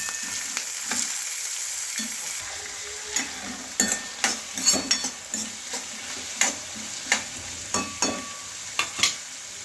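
Green chillies and tomatoes sautéing in a pan with peanuts, a low steady sizzle broken by a run of sharp, close utensil clacks and scrapes as the mixture is stirred repeatedly. Nobody speaks.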